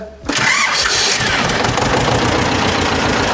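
A cold Vladimirets tractor diesel engine cranks and catches abruptly, then settles into a loud, steady, rough knocking run at close range with no talk over it.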